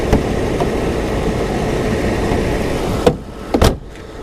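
A 2001 Audi S6 boot lid is lifted on its gas struts and dropped shut, giving two close thumps near the end after a steady idling-car hum.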